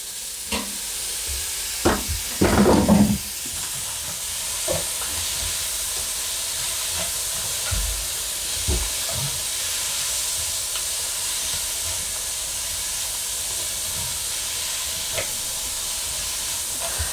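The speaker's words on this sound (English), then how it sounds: "Then I add it to the stir fry I'm making so that they can cook" Lamb chops and green pepper sizzle in a pan for a stir fry, a steady frying hiss throughout with a few louder clatters and bursts near the start.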